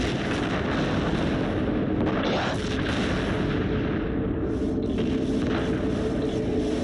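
Ion cannon fire and ships exploding in the space strategy game Homeworld: a dense, continuous roar of blasts and rumbling detonations, loud and unbroken, with no voice over it.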